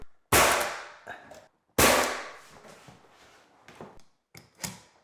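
A nail gun fires nails into window casing trim during a picture-frame trim install: two loud, sharp close shots with ringing decay, followed by softer clacks and a final smaller shot.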